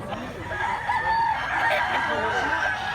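An eight-month-old stag gamecock crows at a rooster market in Mantalungon, Cebu, its drawn-out call fairly close over a steady murmur of crowd chatter and other fowl.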